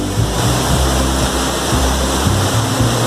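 Steady, dense roar of a heavy waterfall swollen by strong rains, loud and continuous with a deep low rumble underneath, no voices.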